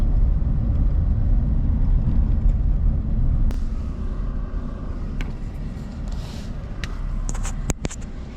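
Steady low engine rumble and road noise from a car being driven near Wells, British Columbia, with a helmet-mounted camera; the drone runs continuously throughout, with a few faint clicks and rattles near the end.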